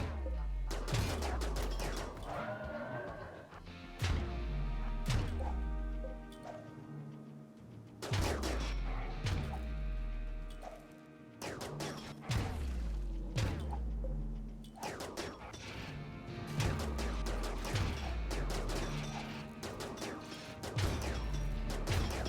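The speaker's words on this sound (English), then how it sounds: "Is it unbelievable how powerful these pulse rifles are?" Pulse rifles firing in Rimworld, heard as repeated sharp bursts of shots in clusters separated by brief pauses, loud and punchy with ringing tails, with no talking.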